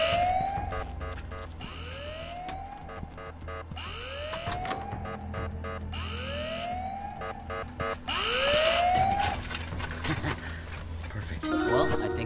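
A rising electronic alarm siren in the video game Ice Scream 6 wails in repeated upward sweeps, about every two seconds, over a steady synthetic background hum, with a brief burst of clatter at the end.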